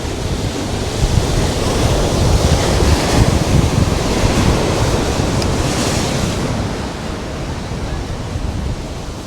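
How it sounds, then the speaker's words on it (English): Ocean waves break on a Los Angeles beach in a loud continuous roar of surf, with gusts of wind buffeting the microphone. It swells and eases slightly, and no one speaks. "Look at the waves."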